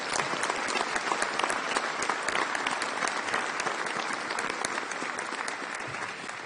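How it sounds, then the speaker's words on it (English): An audience at a press conference introducing the USF men's basketball head coach applauds his family, a dense, steady round of clapping that fills the whole stretch and eases off slightly near the end. "Let's give them a round of applause."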